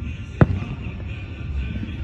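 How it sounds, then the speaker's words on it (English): A single sharp firework bang goes off for a Fourth of July celebration, loud and close, then fades into low rumbling background noise. "now, we're celebrating with fireworks."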